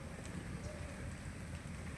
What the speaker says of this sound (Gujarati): આણંદમાં એટલો બધો વરસાદ છે કે કામ કરવું મુશ્કેલ થોડું પડી ગયું છે અમને